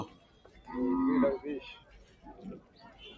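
A cow moos at a cattle market before Eid al-Adha, one loud drawn-out low call followed by a softer shorter one, in a quiet stretch between voices.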